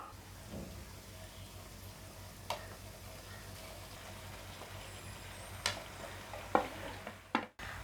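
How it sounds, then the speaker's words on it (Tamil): Cooked macaroni is stirred into masala in a pan with a faint, steady sizzle underneath and a few sharp spoon clicks against the pan, quiet and close. "மேக்ரோனி ஃபுல்லாக மசாலா படுற மாதிரி நம்ம கிளறி விட்டுப்போம்."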